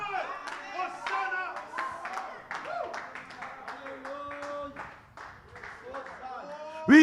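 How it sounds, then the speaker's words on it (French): A church congregation at a Pentecostal worship service in Abidjan claps their hands together, rhythmic clapping under singing and voices, with a loud burst at the very end. "une main d'acclamation"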